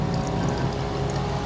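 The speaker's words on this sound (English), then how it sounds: "we're going to strain the fuel from the right wing" Fuel drains from the right wing sump of a Cessna 150 into a sampling cup during a preflight inspection. It makes a brief, steady, close liquid trickle and pour with no speech.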